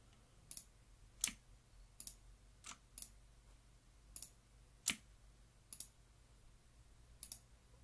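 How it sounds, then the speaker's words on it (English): Sharp, light mouse clicks from a computer user selecting nodes one by one in Inkscape, about a dozen irregularly spaced taps, close and fairly quiet, with a faint steady hum underneath and no talking. "we're just going to click on each one of these"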